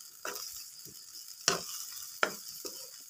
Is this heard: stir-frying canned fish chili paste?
yes